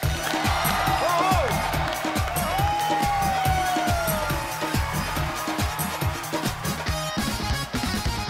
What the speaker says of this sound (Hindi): आपकी जोरदार तालियों के बीच स्वागत कीजिए